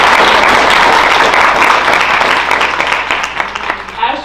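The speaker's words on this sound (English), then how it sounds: "Everybody clap." An audience at an evening bookstore event applauds in a thick, loud burst that thins and fades over a few seconds.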